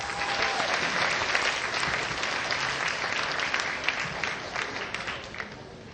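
An audience at a concert performance applauds continuously, a dense, steady wash of many hands clapping that fills the space and tapers slightly at the end.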